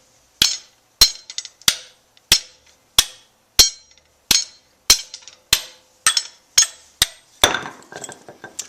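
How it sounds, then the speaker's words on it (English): Sharp metal hammer blows knocking a bearing out of a Troy-Bilt roto tiller shaft, about a dozen loud ringing strikes in a steady rhythm, close by, with a scrape or rattle after the last hit. "We'll now try to hammer the bearing out."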